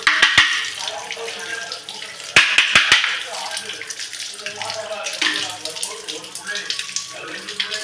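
Running tap water splashes over kitchen parts being washed at a sink, with clattering knocks of the pieces and a person talking over the flow.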